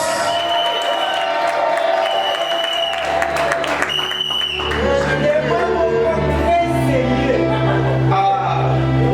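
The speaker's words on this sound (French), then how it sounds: "acclamons pour papa qui s'avance" Crowd applauding and cheering at a couple's church blessing ceremony as the father steps forward, sustained clapping and whoops filling the room with music and voices layered underneath throughout.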